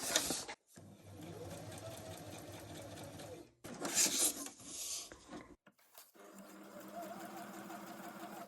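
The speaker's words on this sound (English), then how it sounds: "I'm just going to stitch some leaves. So I'll follow along the stem again." A sewing machine stitches leaves onto a junk journal page, running in steady whirring bursts with short pauses between runs, close and moderately loud.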